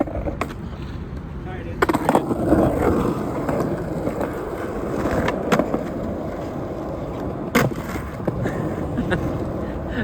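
Skateboard wheels roll and clatter near stairs, with sharp impacts from a trick attempt and landing that ends in wheel bite, while a person talks over the sounds.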